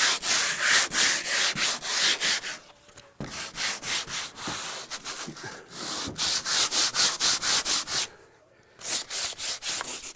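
Sandpaper rubbed by hand over dirty fascias and gutters, close and fairly loud, in quick rhythmic back-and-forth strokes with a few short pauses between bursts.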